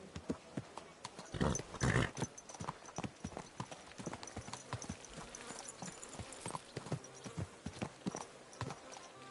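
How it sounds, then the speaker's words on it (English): Horse hooves clip-clopping during a ride in a video game, a steady brisk rhythm of close hoof strikes with a louder flurry near the start, and no talk over it. "Is this your first time riding a horse"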